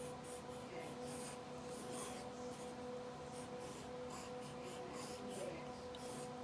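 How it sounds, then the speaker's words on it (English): Pencil scratching out block letters on paper, a steady dry rubbing texture running continuously and close up, with no talk. "So I'm going to write my wow again."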